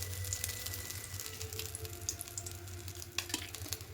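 Mustard oil heats in a pan with a soft, low steady sizzle and faint crackle, a few light clicks and a sharper knock near the end; close and quiet, no talking.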